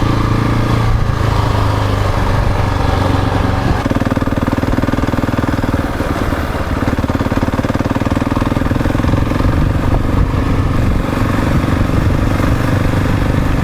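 KTM 690 Enduro single-cylinder motorcycle riding a dirt trail in Spain, its engine droning steadily and loud throughout with rough clattering undertones and no talk.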